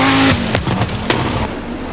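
An Audi Quattro Group B rally car at the 1985 Scottish Rally pushes toward its rev limiter on a special stage, the loud engine note dropping sharply on a shift and then burbling through quick popping stutters as it tears past close by.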